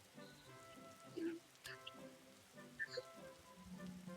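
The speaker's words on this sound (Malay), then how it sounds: "Wih, hujan." Rain falling in the video game Grow a Garden, a soft steady patter of drops with scattered brighter game tones over it, fairly quiet throughout.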